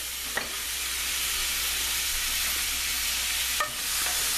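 Chopped vegetables sweat and sizzle in a pot as the base for dried fava beans with potatoes, a steady close hiss of frying with a couple of brief clinks, and no voices.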